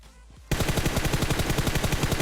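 Sustained automatic M4 rifle fire in PUBG Mobile, a rapid even stream of loud close shots that bursts in after a brief quiet lead-in and continues without pause.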